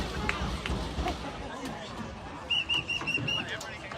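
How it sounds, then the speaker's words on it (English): A referee's whistle at a Longhorns vs Panthers football game marks the end of the third quarter with a quick series of about five short, shrill blasts midway through, heard over steady crowd babble and chatter. "the horn whistled to indicate the end of the third quarter"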